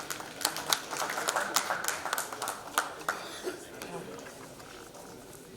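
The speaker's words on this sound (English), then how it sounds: "Big clap, everyone," Scattered audience clapping at a hotel gathering as doctors are called up, with sharp individual claps over a continuous murmur of voices and talk in the room.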